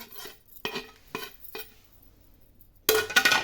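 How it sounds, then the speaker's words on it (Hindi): A utensil scrapes and clinks against a plate in four quick separate strokes, then a louder burst of clattering dishes, close by in a home kitchen while fish pakora is being prepared. "प्लेट अच्छी तरह साफ कर लेंगे।"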